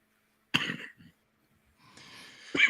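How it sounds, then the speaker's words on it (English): A man coughs twice in a quiet room, a sharp close burst followed by a short breathy pause and a second rough cough. "He was coughing."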